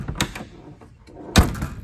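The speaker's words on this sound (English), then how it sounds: "Door opens and shuts okay." A John Deere 4455 tractor's SoundGard cab door clicks open, then shuts with a solid thud a second later, two distinct close metallic knocks with a quieter rattle between.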